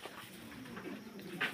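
Lahori toy pigeons of a European bloodline coo softly in a faint, continuous low murmur, with a brief brighter call near the end.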